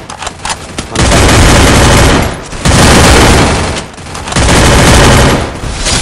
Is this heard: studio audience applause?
no